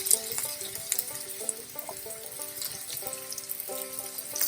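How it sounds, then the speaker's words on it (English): Green capsicum and onions fry in hot oil with a steady, close sizzle and crackle, accompanied by light stirring scrapes, while soft background music plays underneath. "Fry it with the onion."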